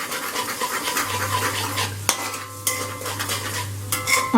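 Eggs scramble in about a tablespoon of oil in a pan over low flame, with a spatula scraping and tapping against the pan over a soft sizzle and a low steady hum.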